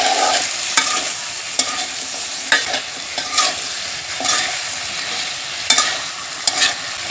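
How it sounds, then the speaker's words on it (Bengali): Taro stolons and shrimp being stir-fried in a pan, heard as a loud, steady sizzle with a regular series of spatula scrapes and knocks against the pan. No voices are heard. "এখন একটু লতিগুলো ভালো করে কষিয়ে নেবে।"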